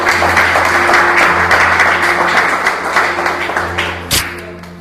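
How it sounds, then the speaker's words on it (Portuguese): A church congregation claps in praise during a sermon, a loud, continuous patter of many hands with a steady hum beneath, gradually thinning and softening toward the end. "Pode aplaudir se for o Senhor."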